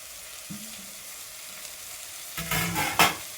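Drumstick fry being stirred in a pan with chopped coriander, a low steady sizzle broken by a few sharp scraping and clanking stirs toward the end.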